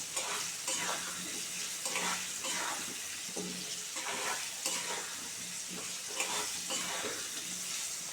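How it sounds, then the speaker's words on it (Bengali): Steady oil sizzle from potatoes frying in a pan for cauliflower curry, with repeated scraping stirs at a regular pace; no talking. "আলুটা একটু ভাজা ভাজা হয়ে যাবে লালচে লালচে হয়ে গেলে কপিটাও ভাজা করব"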